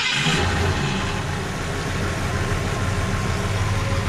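A Ford Falcon engine idling steadily after new spark plugs and ignition wires are fitted, a close, continuous low rumble with even firing and no voices.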